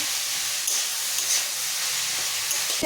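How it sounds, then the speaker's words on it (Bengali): A large sliced onion sizzles in hot oil in a home kitchen, a steady, close hiss with faint crackles that runs unbroken, with no voices. "পেঁয়াজটা দিয়ে দিলাম। পেঁয়াজটা এখন ভাজতে থাকবো।"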